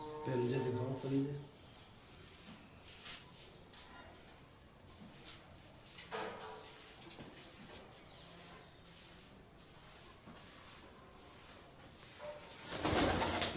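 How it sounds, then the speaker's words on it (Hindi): Pigeons kept by a fancier in a village in Baghpat district coo in low, rounded calls, clearest in the opening seconds, then softer and intermittent alongside rustling and background activity, with a burst of noise near the end. "बहुत तगड़े उड़ते हैं जी ये कबूतर"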